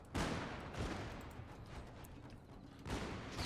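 Matchlock gunfire volleys in the strategy game Shogun 2 Total War: faint crackling bursts of massed shots, one at the start and one near the end, with scattered pops in between over a low rumble.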